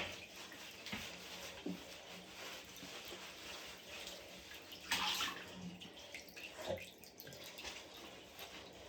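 Water runs and splashes steadily into a tub while bathing a German Shepherd, with occasional louder sloshes and clunks nearby; no talking.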